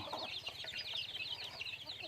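Chickens on a Thai farm cluck and chatter steadily in a close flock, with a continuous busy stream of calls and some wing rustle.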